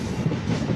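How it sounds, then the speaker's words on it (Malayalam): An Alappuzha–Kollam MEMU train rumbles and clatters as it crosses over onto another track, a dense, continuous wheel-and-rail noise recorded from on board. "ട്രാക്ക് ചേഞ്ച് ചെയ്ത് പോവുകയാണ് നമ്മുടെ ട്രെയിൻ"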